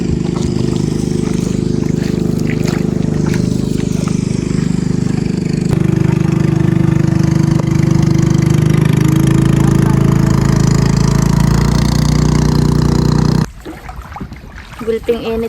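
A steady, loud motor drone rumbles continuously from a small boat engine running close by on a river, then cuts to quieter sound near the end.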